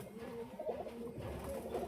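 Pigeons of the Teddy breed cooing in a low, continuous murmur at a bird sale, with soft, steady, overlapping coos close by and no talking.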